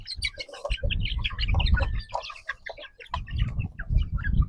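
Chicks peeping continuously in a farm holding pen, many high overlapping chirps from a small flock, close and busy with low rustling underneath.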